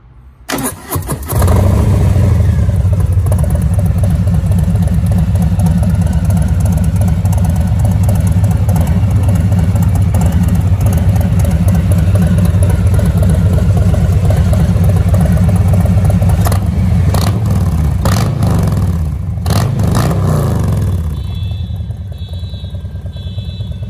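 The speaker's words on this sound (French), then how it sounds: "le son de ce pot énorme" A Harley-Davidson FXDR 114 motorcycle with a large aftermarket exhaust starts up and runs loud and close, holding a deep, steady idle with a few throttle blips that rise and fall before settling near the end.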